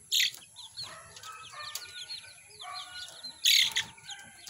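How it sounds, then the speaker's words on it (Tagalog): Chickens in a rural yard, a mix of close clucks and chirps, with a few louder sharp calls at the start and near the end over a quiet background. "Mga manok niya."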